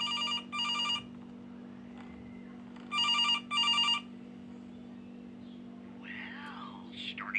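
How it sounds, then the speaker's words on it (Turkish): A telephone rings in a horror video game, two pairs of loud, bright electronic trills repeating about two seconds apart over a steady low hum, followed by faint whispery voices toward the end. "Telefon çalıyor."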